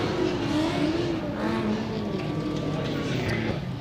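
Justin Pollock's drift car engine revs hard through a shallow line during a Top 16 competition run at the 2018 Texas round, a continuous close roar with rising and falling pitch under steady commentary.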